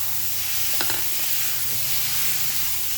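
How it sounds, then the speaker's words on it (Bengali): Chicken mince frying in spiced masala and stirred over a high flame, a loud, steady, close sizzle with occasional spatula scrapes and no speech. "দিয়ে ভালো করে হাই ফ্লেমে প্রথমে আগে কষিয়ে নিতে হবে 2 মিনিট"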